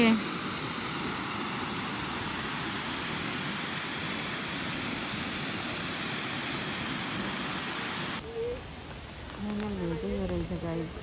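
Fountain show water splashing steadily, a loud broadband rush that runs for about eight seconds before dropping away as a voice starts talking.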